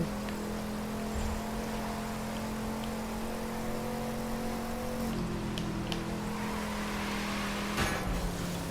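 A car engine drones in The Crew 2 racing game, a steady whirring hum with a gear-shift drop partway through and a brief sharp burst near the end, alone and without talking.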